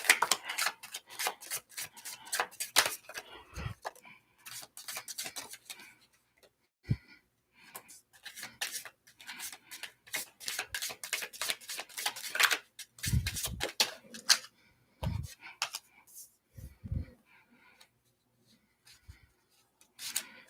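Tarot cards are riffled and shuffled by hand in quiet, repeated bursts of rapid flicking and tapping, separated by short pauses and a few soft thumps as the deck is squared.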